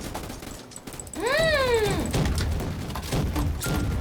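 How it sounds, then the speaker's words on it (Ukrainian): Gunfire in a Roblox military shooter game: loud, rapid bursts of shots with a bright rising and falling whistle-like sweep near the start, continuing steadily to the end. "Да, там стріляють капець."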